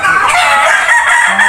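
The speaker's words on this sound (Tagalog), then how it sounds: "Dami ding manok." Chickens cluck and a rooster crows close by, a busy mix of overlapping bird calls filling the short stretch.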